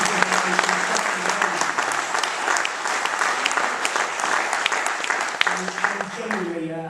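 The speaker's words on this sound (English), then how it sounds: "Hazards deserve an applause" An audience at a Blacklist Support Group talk gives loud, sustained applause for several seconds, with a voice briefly heard at the start and again near the end.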